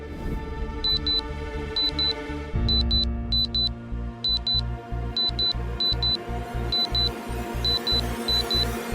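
An alarm clock rings with a steady run of high, paired electronic beeps, loud and regular, over low background music.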